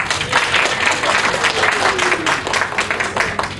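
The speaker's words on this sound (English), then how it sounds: "So I think Jane Fenn deserves a round of applause from all of us" Loud, sustained applause from a convention audience at a science fiction and fantasy panel, dense continuous clapping filling the room throughout with a faint voice underneath.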